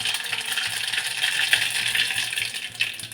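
An ingredient goes into well-heated oil in a pan for a Gujarati fasting kadhi-khichdi, setting off a steady, close, bright sizzle and crackle that holds evenly throughout with no talking.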